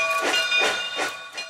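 A Southern Railway steam locomotive lets out loud, pulsing hisses of steam layered with a steady sustained whistle tone, close and continuous throughout.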